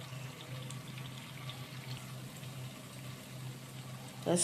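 Steady sizzling and bubbling of amriti (imarti) sweets frying in hot oil, a continuous low crackle with a louder clatter at the very end.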